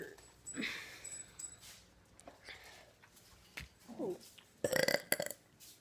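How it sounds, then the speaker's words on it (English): Loud burps let out while trying to do two at once, a cluster of harsh throaty bursts toward the end after quieter breaths and throat noises, close to the microphone. "I'll try to burp two at the same time."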